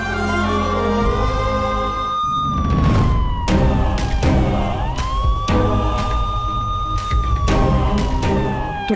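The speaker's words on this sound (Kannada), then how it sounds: "ಪೊಲೀಸ್ ಜೀಪ್ ಬರ್ತಿರೋ ಶಬ್ದ ಕೇಳ್ತಿದೆ" In a Kannada TV serial scene, a police jeep siren wails loudly and close, its rising and falling tone sweeping repeatedly over a low engine rumble, with sharp clanking hits cutting in at intervals.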